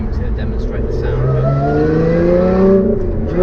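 A Lotus Evora's engine pulls while driving on the road, its tone climbing smoothly as it revs, close and prominent from inside the car, with a voice faintly underneath.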